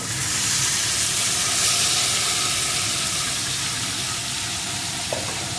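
Marinated chicken frying in a pan with garlic and sugar, giving a steady close sizzle and hiss that holds evenly throughout with no talking.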